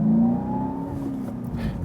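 A Seat Ibiza Cupra facelift with its 192 hp engine accelerates hard, a steady rising engine drone heard from inside the car, loud and without talk.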